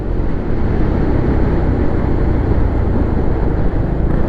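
An Italjet Dragster 200 sports scooter is ridden through bends, its engine and wind merging into a loud, steady roar with no pauses and no talking.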